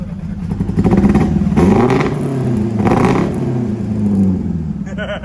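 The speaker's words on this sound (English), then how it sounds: "Give it a blip, I want to see what it sounds like" A Mk1 Ford Fiesta engine with XR2 running gear idles roughly and revs up twice in short blips through the exhaust, close and loud, with voices talking nearby.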